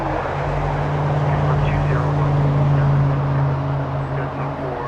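A steady jet roar with a low drone from an Avianca Airbus A319 arriving at Los Angeles International Airport, loud and continuous throughout with no speech.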